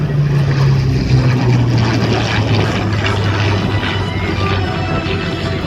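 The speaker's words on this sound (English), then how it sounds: "aircraft like this one, the P-51 Mustang" A P-51 Mustang warbird propeller aircraft at an airshow, giving a loud, steady engine drone with a low propeller hum that holds throughout, slowly shifting in pitch as it passes.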